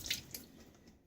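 Water running over a safety razor as it is rinsed under a tap, a brief splashy burst with a couple of soft drips, close and quiet, no talking.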